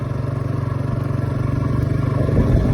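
A motorcycle fitted with a bicycle handlebar being ridden slowly, its engine putting out a steady close rhythmic chugging putter that builds slightly toward the end.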